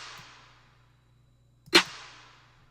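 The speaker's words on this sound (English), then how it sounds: "So the snare sounds like this." A single electronic snare drum sample hits once with a sharp crack and a short reverb tail fading out, heard alone over faint background hum.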